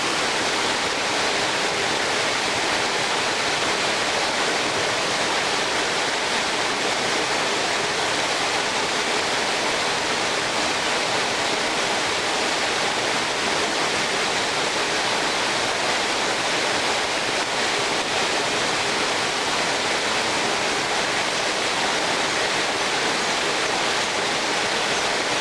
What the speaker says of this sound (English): I'm incredibly happy to find this waterfall.